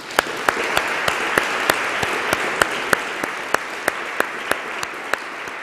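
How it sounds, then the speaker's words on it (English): Applause from a conference session audience thanking the panelists at a city democracy event, a steady wash of clapping with a few sharper individual claps standing out in an even rhythm, moderately loud with no talking. "a round of applause for the panelists"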